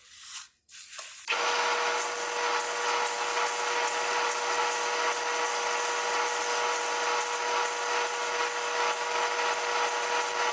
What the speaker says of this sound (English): let's go ahead and start to drill some holes